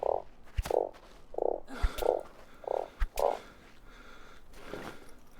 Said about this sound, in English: I saw a frog.